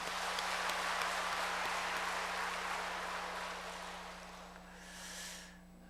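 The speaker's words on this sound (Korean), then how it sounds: "우리 그 감사의 박수 한번 할까요?" Church congregation applauding in thanks, a broad, steady wash of clapping that slowly fades over several seconds beneath a constant low electrical hum, with a brief hissy swell near the end.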